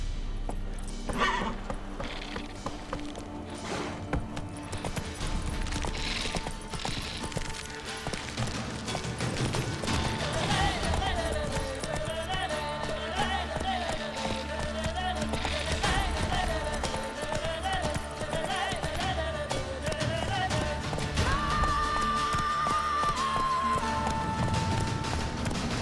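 Roach, the horse in The Witcher 3: Wild Hunt, gallops along with a steady rhythmic clatter of hooves under background music, with a brief snort or whinny near the start.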